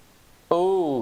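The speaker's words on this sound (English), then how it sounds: "let's try pink noise." Steady pink noise test signal in an EQ ear-training game, switching on abruptly halfway through after near silence and then holding loud and even.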